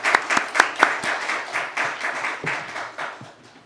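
A church congregation applauds during a Sunday service, a steady patter of many hands clapping at moderate distance with a few sharper nearby claps, the applause gradually thinning toward the end.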